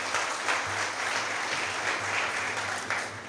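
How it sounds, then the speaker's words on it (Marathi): An audience at a Lokmanya Tilak death-anniversary commemoration programme claps in steady, continuous applause. The sound is fairly faint and even throughout, with no voices over it. "टाळ्या वाजवायला हरकत नाही अशीच गोष्ट आहे ही."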